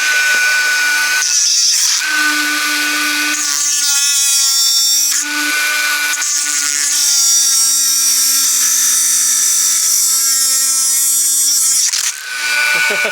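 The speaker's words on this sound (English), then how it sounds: "we're going to get the Dremel, and we're going to cut across here, a little bit more grinding" A Dremel rotary tool cutting and grinding a cheap throwaway flat wrench into an SU mixture adjusting wrench, a loud continuous high whine that dips and changes pitch as the wheel bites, with brief pauses around the two-second and five-second marks.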